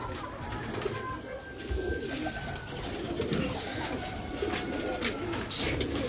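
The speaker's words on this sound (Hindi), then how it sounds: "ये कबूतर है, नर है ये।" A male breeder pigeon coos on a rooftop loft, soft low throaty calls repeating amid faint outdoor ambience and distant chirps.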